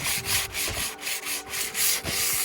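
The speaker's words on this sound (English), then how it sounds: "now we're just gonna do a really, really light sanding with this 240 grit" Light, rhythmic hand sanding with 240 grit sandpaper, a steady back-and-forth rubbing of paper on wood, close and continuous with no talking.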